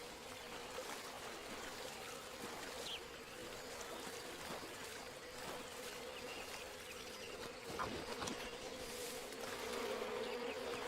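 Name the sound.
buzzing bees in a video game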